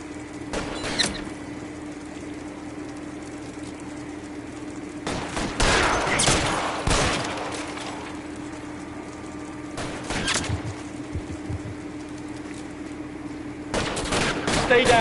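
Gunfire in L.A. Noire crackles in scattered bursts of rapid shots, loud clusters separated by quieter stretches with a low steady hum underneath, plus a few mechanical clicks.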